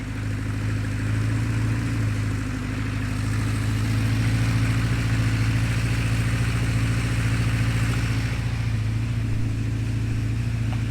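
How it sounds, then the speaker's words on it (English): A 1976 Honda CB550 motorcycle idles steadily up close, its low-mileage four-cylinder engine producing an even, continuous throb that rises slightly in level partway through, with no talking. "all signs point to this being a low mileage motorcycle, and it sounds like a low mileage motorcycle."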